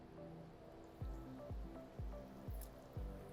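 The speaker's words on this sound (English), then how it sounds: "take some tongs, give it a little flip, drip that off" Battered fish held with tongs drips excess batter back into a bowl while fish tacos are prepared, with a few soft plops landing at a slow, even rhythm against a quiet kitchen background.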